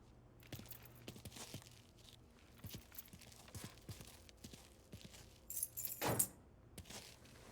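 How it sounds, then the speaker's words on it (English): Keys jangle as they are picked up in the Mafia III video game, a short metallic rattle that swells near the end, with faint footsteps and scattered background noise. "Lincoln, pick up the keys."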